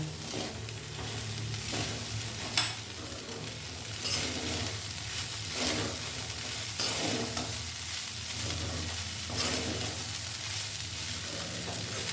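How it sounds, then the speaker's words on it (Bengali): Flattened rice (poha) with vegetables, sugar and salt is stirred and fried in a pan, a steady close sizzle with repeated scraping strokes of a spoon throughout, no talking. "এইবার খুব ভালোভাবে একটু নাড়াচাড়া করে নেব, মিশিয়ে নেব"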